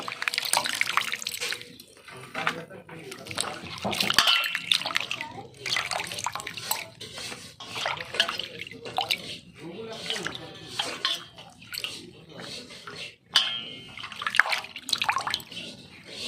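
Crushed pachkol vegetables are washed by hand in a bowl or sink, splashing and sloshing water with intermittent drips and clatters of the vessel, close up, with bursts of talking over the washing.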